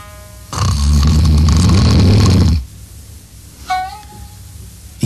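A man snores loudly in a Japanese audio drama, one long rasping snore drawn out for about two seconds, followed by quieter background and a short tonal sound effect.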